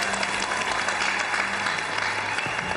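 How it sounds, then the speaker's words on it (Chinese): Studio audience applause on a Chinese TV job-hunting show, a steady, dense wash of clapping that holds at even loudness for the whole stretch, with a faint low hum beneath. "先给个掌声吧"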